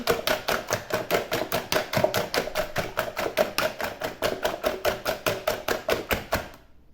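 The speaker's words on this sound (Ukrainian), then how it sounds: "І жовтки, і білки. Трошки взбиваємо, щоб воно стало однорідним." Egg yolks and whites are whisked together in a bowl, a fast even run of sharp ticking strokes repeating about three times a second, close and alone, stopping abruptly at the end.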